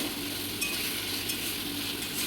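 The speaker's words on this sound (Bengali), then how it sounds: "ভালো করে এখানে আমি সুন্দর করে কষিয়ে নিচ্ছি" Prawn curry masala being stirred and fried in a pan, giving a steady close sizzle with soft scraping strokes throughout and no voices.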